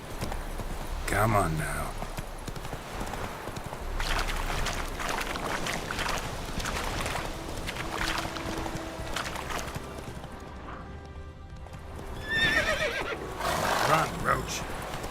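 Roach, the horse in The Witcher 3, gallops with a steady clip-clop of hooves and lets out a sharp whinny, all under a voice and in-game noise.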